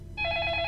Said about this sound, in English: I'm gonna take the phone.